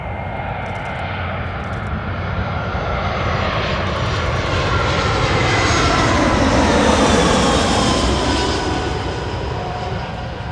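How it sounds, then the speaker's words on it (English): Airbus A319 landing at Los Angeles International Airport, a loud sustained jet engine roar swelling slightly as the aircraft passes close, then holding steady, with no talk. "Very, very smooth landing for that A319 there"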